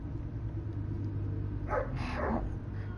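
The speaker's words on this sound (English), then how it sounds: "that's my dog." A pet dog barks a few times at moderate distance, short bursts standing out over a steady low hum of game audio and room noise, with no talk during the barking.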